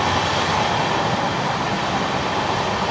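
A passenger train on the Kolkata to Mizoram route rolls along with a steady, unbroken rumble and rattle, heard from inside the carriage, with no voices over it.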